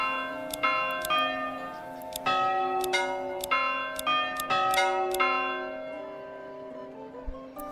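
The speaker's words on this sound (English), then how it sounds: "Church bell sound." A church bell in the medieval village-building game Manor Lords tolls repeatedly, a series of clear ringing strikes with long humming overtones, the final peals decaying into silence.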